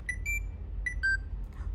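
Nintendo Switch 2 system menu sounds: a few short, bright electronic chimes and beeps in quick pairs, clear and close over a low background hum.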